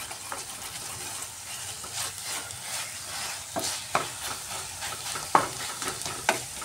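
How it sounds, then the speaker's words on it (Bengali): Spinach sautéing with spices in a pan, a soft continuous sizzle broken by repeated scraping stirs and occasional sharp utensil taps against the pan, close and moderately loud, with no one talking. "পালং শাকটা খুব সুন্দর মশলার সাথে কষানো হয়ে গেছে।"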